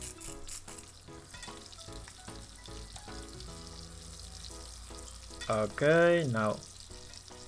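An egg and tomato omelette fries in a pan, giving a low, quiet sizzle under a person talking, with a brief louder tonal sound near the end.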